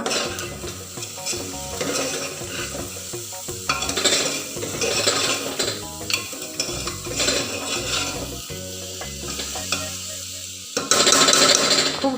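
Pulao being stirred in a pot with a spoon: repeated scraping and rustling strokes through the rice over a light sizzle, close and fairly loud, with a brighter, harsher hiss near the end.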